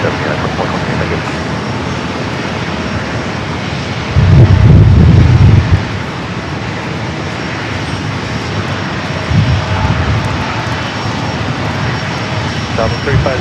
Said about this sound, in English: 2420, runway 27, clear for takeoff